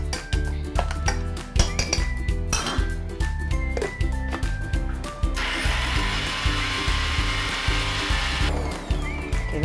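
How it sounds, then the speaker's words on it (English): A spoon scrapes down the sides of a mixer grinder jar holding a coarse jackfruit-curry chutney, giving rapid, repeated clinks and scrapes, with a stretch of harsher grinding hiss midway, and no voices. "we need to bring out and clean the sides of the mixer, the jar"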